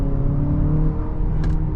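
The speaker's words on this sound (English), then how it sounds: "setting off now in the new Murano" A 2025 Nissan Murano SUV with a 4-cylinder engine sets off, with a steady low engine hum and road rumble heard from inside the cabin.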